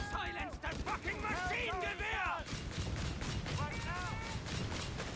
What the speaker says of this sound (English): .50 cal machine guns from our US player on the field now, giving them extra suppression and damage.